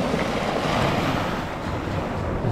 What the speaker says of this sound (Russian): а оно вообще волна бьет сильная